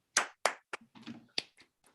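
A handful of scattered, uneven hand claps ring out close and crisp at a live comedy podcast event, sparse and short rather than a full crowd ovation.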